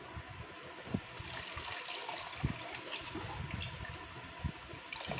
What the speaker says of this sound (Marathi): चाळणीने गाळायचं आहे